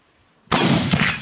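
A single loud gunshot during shooting practice, an abrupt blast after a quiet moment followed by a sustained rumbling echo.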